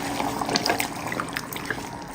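Boiling water pours into mutton cooking in a pan, a close, steady splashing trickle with small bubbling pops throughout.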